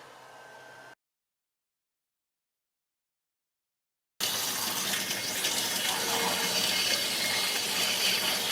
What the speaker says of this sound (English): There goes water in.